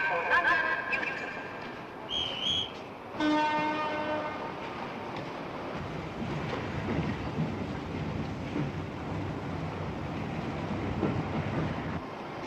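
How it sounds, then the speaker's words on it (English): A train horn sounds briefly, followed by the low, building rumble of an express train pulling away from a station platform and rolling steadily on, loud and close throughout. "The train about to leave platform 6 is the night leaving for London, Euston."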